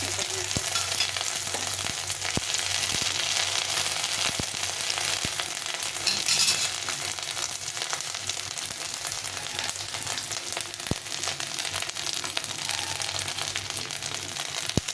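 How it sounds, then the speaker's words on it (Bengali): Crushed ginger and green chili fry in hot oil with cumin seeds and bay leaf for moong dal, a continuous close sizzle and crackle throughout, with occasional faint clicks of stirring. "জিরে আর তেজপাতা, ফোড়ন দিয়ে দিলাম। এখন এর মধ্যে দিয়ে দেবো আমি আদা আর কাঁচা লঙ্কাটা থেতো করে রেখেছিলাম।"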